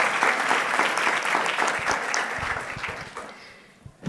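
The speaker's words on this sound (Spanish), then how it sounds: "Dele ese fuerte aplauso" A church congregation bursts into strong, dense applause that fills the room for several seconds, then thins out near the end with a few scattered claps.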